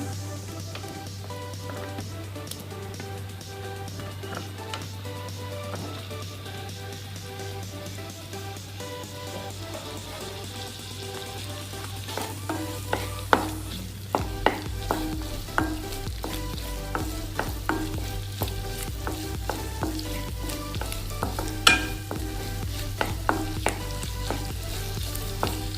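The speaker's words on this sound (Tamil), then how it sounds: "இப்போ பட்டர் மெல்ட் ஆயிடுச்சு. இந்த க்யூப்ஸ் எல்லாம் போட்டுருணும்." Paneer cubes fry in melted butter with a steady, soft sizzle and crackle, joined about halfway through by sharp stirring scrapes and taps from a utensil against the pan, heard close and with no talking.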